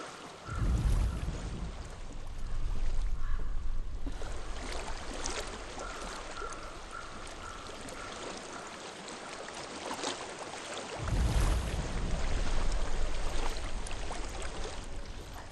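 Flowing water of a stream in the video game Hellblade, a steady broadband rush that stays fairly even throughout, with louder low surges near the start and again toward the end.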